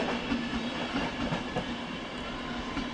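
A train with a double-deck coach pulls out of a siding at München Hbf, a steady rumbling roll with soft rhythmic wheel clatter, moderately near and continuous.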